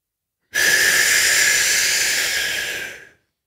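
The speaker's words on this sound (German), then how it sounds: "Atmen durch diesen Krähenschnabel ein und machen dann eben diese Achagri-Atmung" Long, steady inhalation drawn through lips pursed like a crow's beak during a yoga breathing exercise, a close hissing rush of air lasting a few seconds and tapering off.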